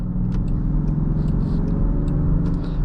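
A 2024 Land Rover Defender 130 SUV with a turbocharger and electric supercharger drives along, a steady low rumble of engine and road noise heard from inside the cabin, with a few faint light clicks above it.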